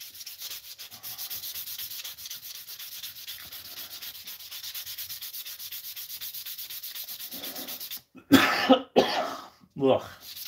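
A bloodwood knife handle is sanded with a steady, rapid rasping scrub that keeps on for about eight seconds, followed by loud coughing and throat clearing.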